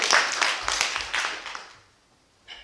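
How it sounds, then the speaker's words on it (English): Audience applause at the Tripwire Awards Ceremony 2019, a dense wash of clapping that swells early, thins and fades out before a brief burst returns near the end. "let's have a round of applause for all those lovely talented people"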